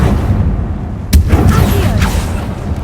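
Confringo spell blast in the video game Hogwarts Legacy: a single sharp burst with a crackling sweep over steady, loud game ambience, followed by softer fizzing tails.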